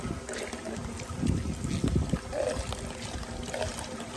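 Water is pumped up into a sample pitcher, giving gurgling, trickling and splashing sounds in irregular bursts over a steady outdoor hiss, close and moderately loud.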